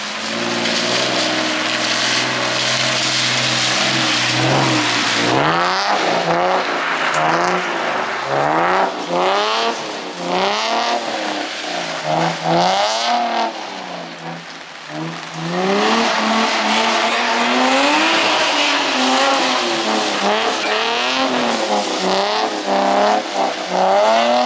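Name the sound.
Nissan 350Z/G35 drifting sideways with tire squeal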